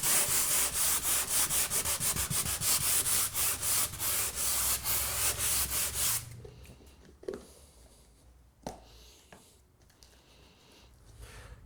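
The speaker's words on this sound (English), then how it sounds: "The first step is to sand the area around it to improve the adhesion between the GIB compound and the painted surface." Sanding a painted plasterboard wall around a scratch before filling, a steady rapid back-and-forth abrasive rubbing that runs loud and continuous for about six seconds, then stops, leaving faint scattered handling noises.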